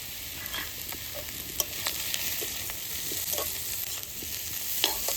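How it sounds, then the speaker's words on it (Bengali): Jackfruit and potatoes sautéing in a pan with Kashmiri chili powder, a steady soft sizzle with scattered scrapes and taps of a spatula stirring, fairly quiet and close. "এবার সুন্দর করে আমি কষাই নেবো ইচোড়ার আলু কষানো হয়ে গেছে এবার আমি সামান্য কাশ্মীরি লঙ্কার গুঁড়ো দেবো"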